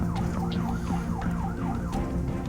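Ambulance siren in the Philippines, a repeating wailing tone rising and falling about twice a second, steady and fairly loud over low traffic rumble, with no talk.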